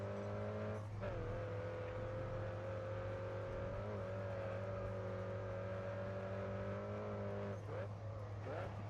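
Race car engines in GRID Autosport on the Alpinestars street circuit, a steady sustained high engine drone with brief shifts and bumps, someone talking over it throughout.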